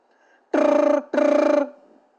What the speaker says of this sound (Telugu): సోనియా గాంధీ గారు అర్ధరాత్రి పూట ఫోన్ చేశారు